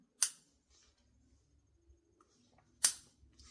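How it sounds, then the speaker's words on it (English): Scissors cut through the corners of a clear jelly vinyl zippy clutch in two crisp, isolated snips about two and a half seconds apart, close and fairly quiet against near silence. "And I also snip my corners."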